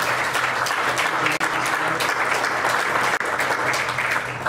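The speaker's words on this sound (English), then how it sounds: "we should give him a round of applause" An audience at a county board meeting applauds steadily and loudly throughout, a dense even wash of clapping with no break.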